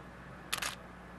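A camera shutter fires once at a slow 1/20th of a second, a single crisp mechanical click-and-clack close by against quiet room tone.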